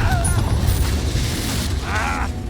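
A Confringo spell detonates during Hogwarts Legacy combat, a loud, deep rumbling blast that fills the moment, with game effects and a brief voice mixed in.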